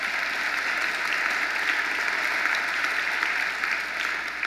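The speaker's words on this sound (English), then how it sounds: "I was clapping for the establishment of a new consumer agency" Sustained audience applause following a political speech about a consumer financial protection agency, a dense steady wash of clapping hands filling the whole stretch at even loudness, with no voices over it.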